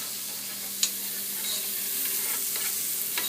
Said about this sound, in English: I'm just going to give that a quick stir